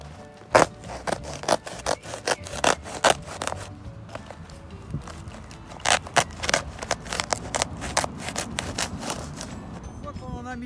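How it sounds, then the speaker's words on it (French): A utility knife cuts holes in a plastic tarp laid over a vegetable garden bed, giving sharp scraping slices and crinkling rubs in irregular bursts, close up, with some speech around them. "on va prendre un cutter et on va aller faire des trous dans la bâche"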